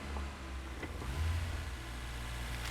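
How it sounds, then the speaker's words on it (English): Garbage truck idling right out front, a low steady diesel rumble with a faint rise in engine effort and a few soft clanks, muffled as if heard from indoors. "Oh, okay, that's the garbage truck right out front."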